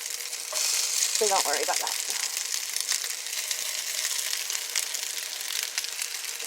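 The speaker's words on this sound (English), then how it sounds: "with as many meatballs as I could fit, I'm going to let those fry up on one side" Meatballs fry in a pan packed as full as it will hold, set a finger's width apart, giving a steady close sizzle that runs throughout, with a short clatter early on and a voice speaking briefly over it.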